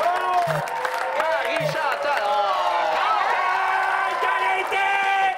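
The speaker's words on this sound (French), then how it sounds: "On peut l'applaudir, tout le monde." Game show studio audience clapping, cheering and whooping for a contestant, a steady loud crowd roar throughout with voices calling out over it.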